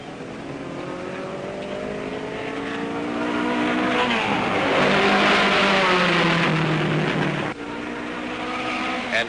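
A Lotus racing car at a 1958 Grand Prix at Spa roars past at full speed, its engine rising to a loud peak in the middle and then falling away with a sudden drop as it passes, no voices.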